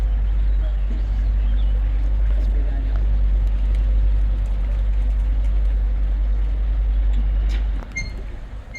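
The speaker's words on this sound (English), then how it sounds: "the first sound you'll hear behind you is the sound of Sergey closing the upper gates" The upper gates of a century-old canal lock close, driven by original 5-horsepower electric motors. A steady, heavy low drone holds throughout, then shifts and drops away near the end.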